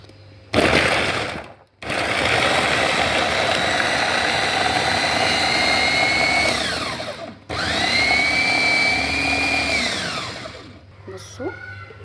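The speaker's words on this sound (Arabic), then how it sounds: "فانا بحب اضرب الاول الطماطم، بحب اضرب البصل ومعاها قرن الفلفل وطماطميه صغيره" Electric blender grinding tomatoes, onion, a chili pepper, garlic cloves and a coriander sprig, running loud and steady in two long bursts with a brief stop between and a short pause near the end.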